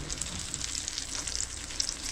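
Saltwater fish fillets freshly caught in Florida frying crispy in a hot pan, a steady dense close sizzle and crackle with no talking.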